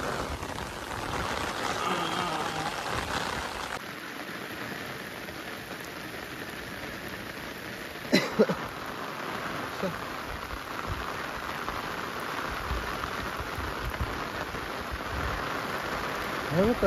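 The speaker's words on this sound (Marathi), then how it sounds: "मला भरपूरच पाऊस आला" Heavy rain on farmland during field work falls in a soft, steady hiss, fairly faint and even, with a brief sharper knock midway.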